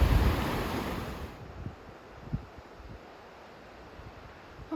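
Ocean surf at Big Sur rolls in a steady wash of noise, heaviest at first and then easing off, with wind buffeting the microphone and a few soft thumps along the way.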